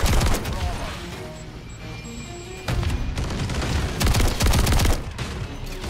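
Rapid, booming gunfire from the JAK Maglift Haymaker in Modern Warfare 3: loud, heavy bursts of repeated blasts with short pauses between volleys, close and dominant.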